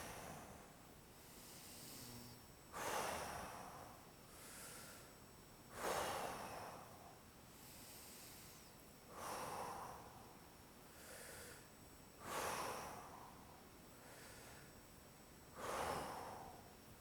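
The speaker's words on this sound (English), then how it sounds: "We're going to take a big inhale in. And as we exhale, we're going to drive our hips up and our rib cage down and exhale." A person breathes deeply during a golf warm-up exercise: five or six slow, evenly spaced breath cycles, each a breathy rush heard close and quiet, with soft airy hiss between them.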